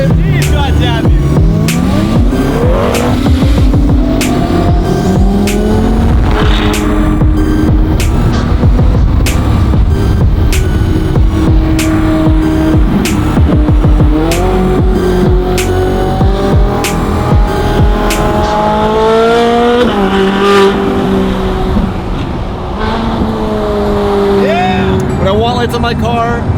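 A straight-piped widebody Ferrari 458 revs hard, its loud, raw engine note climbing and falling in repeated sweeps, close and continuous, with occasional voices underneath.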